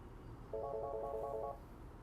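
An office desk telephone rings with an incoming call: a single clear electronic ring burst of about one second, steady and close, alone against quiet room noise.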